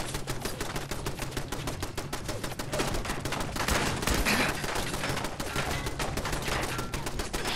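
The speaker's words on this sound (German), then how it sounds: "Hier geht's aber jetzt auch ordentlich rum mit dem Geballer, ne?" Dense gunfire in the video game Fallout 4, rapid continuous bursts of automatic shots and sharp reports crackling nonstop throughout at steady loudness.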